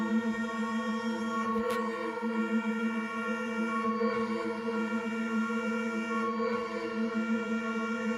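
A sustained, droning Benjolin synthesizer tone with layered harmonics and a washy reverb tail, steady and continuous with slight shifting texture.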